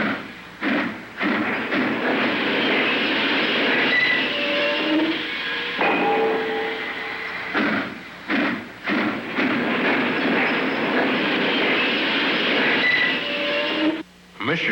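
A train rolls past on the railway, a steady broad rumble with rail clatter and faint wheel squeal. It stays loud and continuous for most of the stretch, with brief dips.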